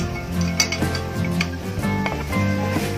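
Soya chunks being mixed with coconut oil and garam masala in a pan for a Kerala-style curry: steady metallic clinks and scrapes of a spoon against the vessel, over a low continuous hum with no speech.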